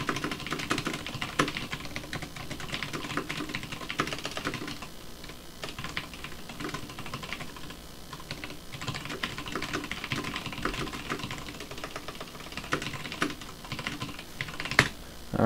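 Steady typing on a computer keyboard while entering text in OfficeVision/VM, a continuous patter of quick key clicks with a few louder taps, no voices.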